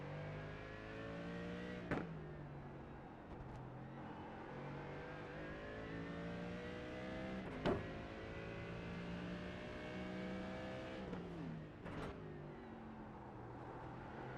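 Simulated GT3 race car engines drone and whine through gear changes on the Long Beach circuit in a racing video game, with sharp shift blips and steady rising pitch sweeps, playing faintly and without talk.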